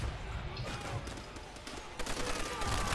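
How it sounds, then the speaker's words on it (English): Grenade blasts and gunfire in the World War II shooter Call of Duty: World at War, heavy low booms and crackling bursts filling a short, dense stretch of combat noise. "Oh, that's a grenade."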